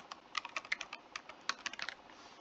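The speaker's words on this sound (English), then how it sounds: "so I'm just gonna type that in." A font name is typed on a computer keyboard in quick, uneven bursts of close, light key clicks over a quiet background.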